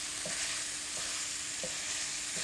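Stove-top cooking in a kitchen show: a steady loud frying sizzle with a few light stirring scrapes at regular intervals, no voices.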